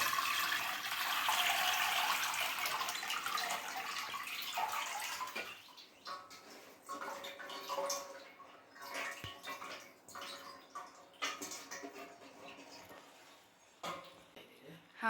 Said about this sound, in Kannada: ನೀರು ಹಾಕ್ತಾಯಿದ್ದಾರೆ